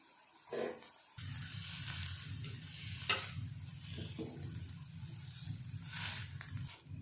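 Eggs and chopped peppers are stirred together in a hot pan, giving steady sizzling and frying crackle with scraping strokes of a spoon, fairly close and continuous, no voices.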